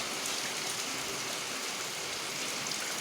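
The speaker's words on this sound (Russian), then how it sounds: "А дождь все идет. Хороший дождик." Steady rain hisses down outdoors and patters on surfaces, a dense even wash of drops with no pauses and no voices.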